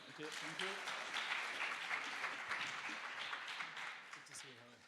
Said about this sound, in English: So thank you very much, and a big applause for Frank.